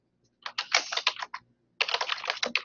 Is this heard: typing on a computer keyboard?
yes